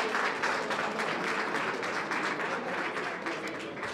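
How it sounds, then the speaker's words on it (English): A crowd at a community gathering claps in a dense, steady applause that holds for several seconds, fairly loud and even, with no clear voices over it. "Un aplauso, very nice loud applause."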